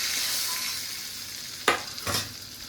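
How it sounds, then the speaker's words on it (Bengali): Prawns fry in hot oil over a medium flame for a Bengali prawn malai curry, giving a steady bright sizzle with two sharp clatters from stirring or turning the pieces. "এইভাবে আমি বাকি মাছগুলো ভেজে নেব"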